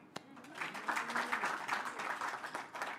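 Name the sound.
applause for the women in the room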